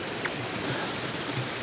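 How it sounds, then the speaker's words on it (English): A river waterfall, heard as a faint, steady wash of falling water, continuous and even with no voices. "Sitting here listening to the sounds of the waterfall right there"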